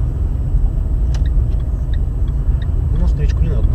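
A car driving on a road as the driver adds throttle near a railway crossing in Ryazan, a steady loud low engine rumble throughout with a voice talking over it.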